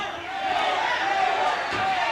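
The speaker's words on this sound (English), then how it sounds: "this crowd is sure very much anti-Austin Idol" Crowd at a Detroit Big Time Wrestling match jeering and booing wrestler Austin Idol after a hair-pull takedown, a steady, loud wash of voices filling the arena throughout.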